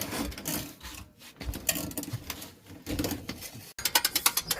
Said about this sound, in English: Cranking it up.